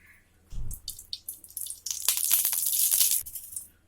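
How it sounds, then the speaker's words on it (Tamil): Cooking oil is poured into a pan on the stove, a close, liquid splashing trickle that builds into a steady, bright pour before trailing off. "இதில் வந்து எண்ணெய் ஊற்றிடலாம்."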